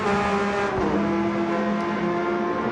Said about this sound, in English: Listen to that car scream.